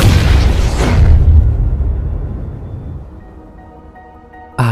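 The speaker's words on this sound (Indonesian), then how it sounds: "Inggris, terjadi ledakan bom." A bomb explosion hits with a loud, heavy boom, then rumbles down into a long fading tail over several seconds, broken at the end by a short, abrupt burst.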